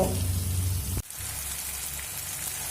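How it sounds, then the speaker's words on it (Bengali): Spice paste with sugar fries in a pan over medium heat for a fish-head curry, sizzling loudly and close before an abrupt drop at one second, after which a softer, steady crackle continues. "মশলার মধ্যে যদি চিনি দিয়ে কষানো যায় তাহলে কিন্তু কালারটা খুব সুন্দর আসে তো দেখুন আরও এক মিনিট মতো কষিয়ে নেব"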